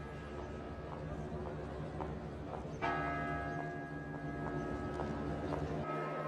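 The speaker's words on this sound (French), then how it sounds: "2 noirs de bronze sonnent à chaque heure juste la grande cloche." The great bronze bell of the clock tower in Venice strikes once, ringing out and ringing on over a busy outdoor murmur and faint voices, its long humming decay fading slowly.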